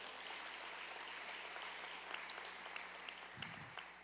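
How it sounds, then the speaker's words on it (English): Applause from guests at a charity leadership award celebration, a soft, distant patter of many hands under a low room hum, lasting a few seconds. "let's give her a round of applause"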